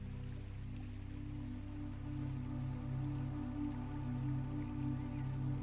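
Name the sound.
rain falling softly against window glass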